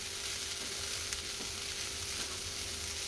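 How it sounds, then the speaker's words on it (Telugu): Sprouts fry and sizzle steadily in a pan as fresh coriander is stirred through them, a close, even crackle that runs on with no talking. "ఇప్పుడు కొత్తిమీర వేసుకుందాం ఫ్రెండ్స్. కలుపుకుందాం."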